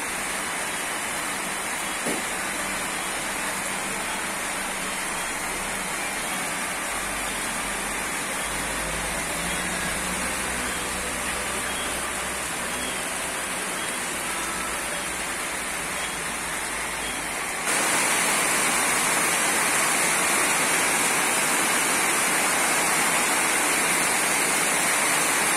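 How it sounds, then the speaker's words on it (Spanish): Steady rain falls at dusk over the Siloé area of Cali, a dense broadband hiss that holds evenly throughout and grows brighter and louder near the end, with a faint low traffic rumble beneath. "Anochecer en la ciudad de Cali con lluvia"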